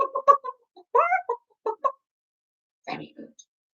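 Children's voices imitate a chicken, giving several short clucking bursts in quick succession, a pause, then another clucky group, loud and close with no other sound between.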